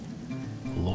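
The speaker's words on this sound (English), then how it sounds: "Oh, it's still raining." Rain falls steadily in The Witcher 2, a soft continuous patter with some tonal background sound layered over it.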